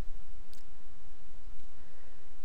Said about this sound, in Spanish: Para esto damos clic en iniciar simulación